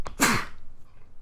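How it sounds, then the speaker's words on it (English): A single sharp sneeze, close and loud, with a quick breathy intake just before it and quiet room noise after. "Sorry, just sneeze there."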